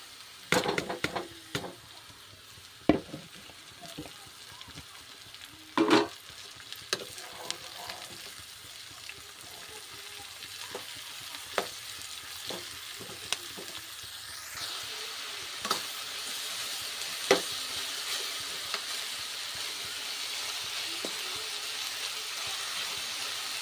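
Food fries in a hot pan with a steady sizzle and hiss while a spatula stirs it, scraping and knocking against the pan at irregular intervals, close and clear with no talking.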